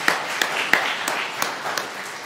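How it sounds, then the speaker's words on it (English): Church congregation clapping in a round of applause, a modest group heard at some distance, with scattered sharper claps standing out over a steady patter for a couple of seconds. "Let's give Rose a round of applause"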